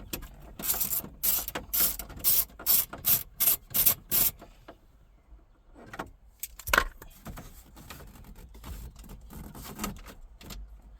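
Wrench work loosening and pulling a nut on a first-generation Toyota Tundra: a run of quick, evenly spaced ratcheting clicks up close, then scattered metallic clinks and rubbing handling sounds, no talk.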